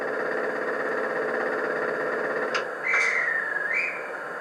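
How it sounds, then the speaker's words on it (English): A single shrill dispatch whistle sound effect from an OO gauge model train sounds over a steady mechanical hum, rising briefly then holding before fading. "Dispatch whistle."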